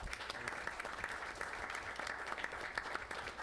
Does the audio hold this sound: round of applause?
yes